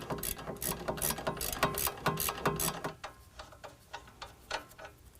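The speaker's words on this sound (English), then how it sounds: "I'm going to use a ratcheting wrench." A ratcheting wrench loosens a sway bar link nut while installing a lift kit on a 2022 Ford Maverick, a rapid close metallic clicking in quick strokes, loud at first then softer and more spaced out.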